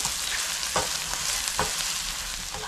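A tadka of hot oil with chili powder, turmeric and garam masala sizzles in a kadhai as dhaba-style whole masoor is made. A close, steady hiss is broken by a few sharp stirring scrapes.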